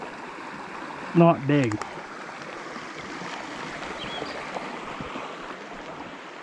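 A Pennsylvania trout creek rushing steadily nearby, a continuous broadband babble of flowing water under a man's brief remark.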